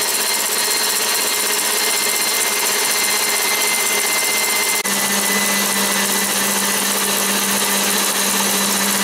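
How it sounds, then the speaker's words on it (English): An electric mixer beating egg whites with sugar runs with a loud, continuous whir for several seconds, its pitch shifting slightly midway, with no talking. "We'll let the egg whites beat for one additional minute"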